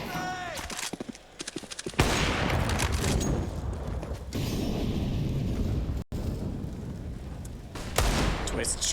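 Rapid pistol fire from Desert Eagles and a CZ in a Counter-Strike match, a dense run of loud shots and bursts lasting most of the stretch, with a brief gap near the end and commentary-like voices mixed in.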